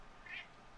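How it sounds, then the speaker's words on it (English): A house cat lets out a single brief, faint meow from a short distance over a quiet room hum. "You want in the room, and then you just meow at me."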